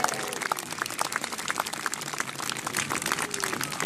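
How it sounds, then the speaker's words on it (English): An outdoor crowd at Warwick Castle applauds and cheers the trebuchet master and his crew, a steady, fairly faint patter of clapping heard from some distance. "give a massive cheer and a round of applause for our Trebuchet Master and his crew"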